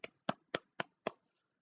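Five sharp, evenly spaced hand claps in a slow, deliberate rhythm, close and alone, given as a modest reward for discovering a cure.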